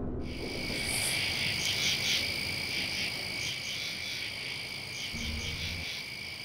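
A dense chorus of frogs croaks and trills continuously beside shrill insect-like calls, layered and fairly loud in an outdoor night setting, with no human voices.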